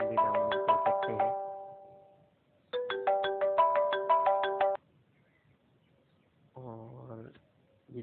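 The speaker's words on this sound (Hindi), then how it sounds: "काफ़ी फेमस रिंगटोन है।" A phone ringtone plays a bright, bell-like melodic phrase twice, separated by a pause, followed by a shorter different tone.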